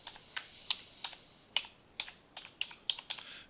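A phone number is typed into a search field on a computer keyboard: about a dozen crisp, close key clicks in an uneven rhythm, quiet overall, with no talking.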